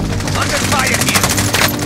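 Rapid video game gunfire crackles in dense, continuous bursts, loud and close, with a busy battle mix underneath and no clear voices.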